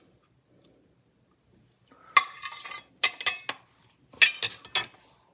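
A knife or pizza cutter scrapes and taps through a baked macaroni and cheese pizza on a pan, in a few short bursts of clatter and scraping after a quiet start, close up with no talk.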